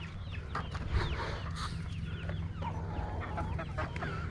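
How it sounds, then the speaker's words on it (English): Several farm chickens, including a light Brahma rooster and light Brahma hens, cluck and squawk close by in an irregular, busy chorus over steady low background noise. "See all those chickens?"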